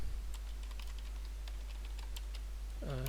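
Rapid, steady keystrokes on a computer keyboard while a list of names is typed in a Python tutorial, close and continuous clicking throughout, with a voice starting to speak at the very end.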